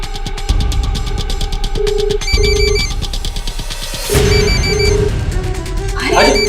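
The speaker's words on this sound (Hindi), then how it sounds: "फोन तो अंदर ही बज रहा है। हाँ फोन की आवाज अंदर से आ रही है।" A telephone rings repeatedly in steady bursts, muffled from inside a house, while people talk nearby outside over a busy background.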